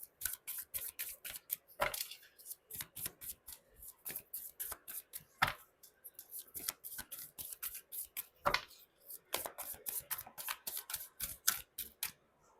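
Tarot cards are shuffled by hand in quick, close riffling bursts that repeat in an even rhythm, with crisp flicks and taps of the deck standing out against near-silence and no one speaking.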